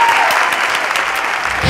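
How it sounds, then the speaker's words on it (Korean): Studio audience breaks into loud, dense applause, a close continuous wash of clapping hands that carries on without a break. "박수!"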